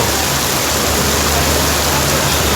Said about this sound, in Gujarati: તમે જોઈ શકો છો આ બાજુ વરસાદ જોરદાર પડી રહ્યો